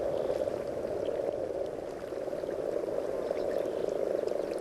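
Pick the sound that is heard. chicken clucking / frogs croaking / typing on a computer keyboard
frogs croaking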